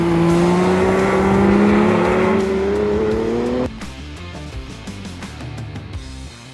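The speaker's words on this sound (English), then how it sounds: "And now we're back launching now with this silver Cayman." A silver Porsche Cayman launches at an autocross event, its engine holding a loud rising rev before dropping abruptly as it pulls away, leaving a rougher, fading engine rumble.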